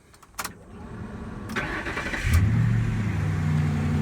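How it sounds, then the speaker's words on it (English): A car with two catalytic converters and a stock P71 exhaust fitted with Flowmasters starts up nearby, then settles into a loud, steady low rumble at idle with no one talking. "I'll get a quick shot of the exhaust note"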